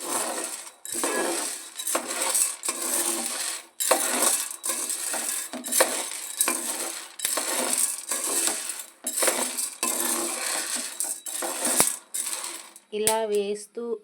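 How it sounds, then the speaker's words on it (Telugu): Ingredients for sathi mudda laddu crackle and sizzle in a frying pan, a steady dense fizz of tiny pops running throughout with no talk. "ఇవి చిట్టా పట్టా అంటున్నాయి, వినండి, చూడండి."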